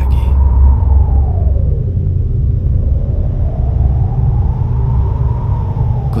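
Strong storm wind with a deep, steady rumble, a sound effect of dark clouds gathering and a gale rising; a low roar holds loud and continuous throughout with slow surging swells and no voices.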